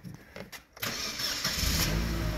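A Daewoo Nexia engine cranks briefly and catches, then settles into a steady, loud idle close by with no talking.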